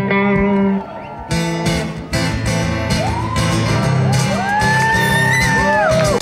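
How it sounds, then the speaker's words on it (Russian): Loud crowd at a rock concert in Krasnoyarsk whooping, shouting and cheering with applause, voices rising in excited calls over a dense, continuous roar of many people. "Каждую новую песню они встречали громкими криками и аплодисментами."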